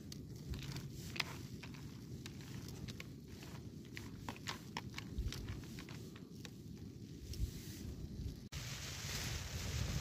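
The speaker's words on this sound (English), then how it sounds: "it's raining again and it's getting quite windy" Wind gusting and rain pattering outdoors at a midweek camp in Snowdonia, a steady rushing noise with scattered soft taps and buffeting against the microphone, no voices.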